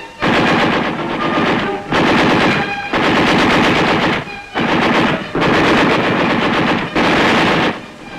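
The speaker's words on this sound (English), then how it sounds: "The enemy fire is returned by our forces with devastating effect." Machine gun fire in combat rattles in long, loud sustained bursts separated by brief pauses, about six volleys in close succession with nothing else heard between them.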